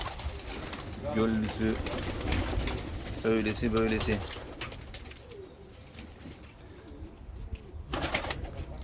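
Tumbler pigeons coo nearby in low, repeated bursts while someone talks over them, with soft rustling in the background.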